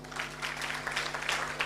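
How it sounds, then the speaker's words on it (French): Continuous clapping from an evening audience goes on at a fairly even level over a low steady hum, with no voices rising above it. "applaudissez pour lui"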